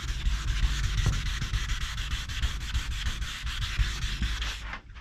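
Car body panel being hand sanded along a body line with loose sandpaper while flow coating, a steady close scratchy rubbing in repeated back-and-forth strokes for several seconds, stopping just before the end.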